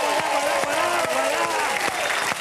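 A television studio audience applauds and cheers with sustained, steady clapping and crowd noise, loud and close, with excited voices mixed into the din throughout.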